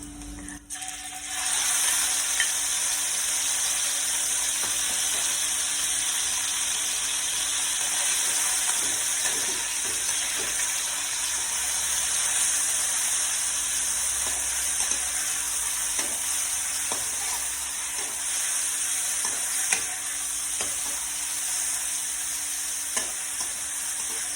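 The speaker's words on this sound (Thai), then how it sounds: "ใส่หมูลงไปเลยค่ะ" Pork frying in a pan with garlic for a southern Thai curry, sizzling steadily and loudly throughout with scraping stir strokes, alone with no talk.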